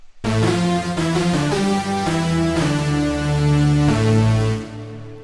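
Dark, brassy synth sound in a techno remix, sustained chords with strong low harmonics playing loud and continuous, changing pitch a few times before fading out at the end.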